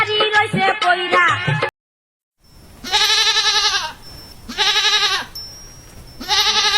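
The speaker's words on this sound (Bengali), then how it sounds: "ছাগল নিয়ে তো পারা গেল না, খাওয়া ঘুম সব মাটি করে দিচ্ছে একদম।" A goat bleats loudly and close by in three long, wavering calls separated by short pauses, following a brief burst of speech and a moment of silence.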